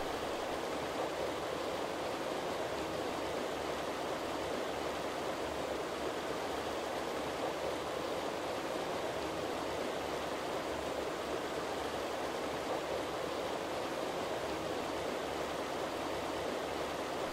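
Steady, unbroken rush of Oak Creek flowing over rocks in Arizona's Oak Creek Canyon, even and continuous throughout with no other sounds.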